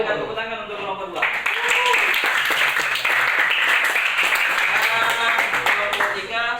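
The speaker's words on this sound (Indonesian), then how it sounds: "Tepuk tangan untuk kelompok 2." A classroom of people breaks into lively clapping after a student group finishes presenting, the applause holding steady and full until the end.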